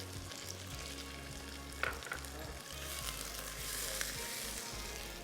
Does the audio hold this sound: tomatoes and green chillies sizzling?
yes